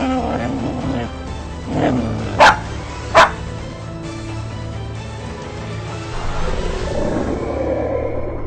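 A dog gives two sharp, loud barks close by, cutting through a busy background of voices and music.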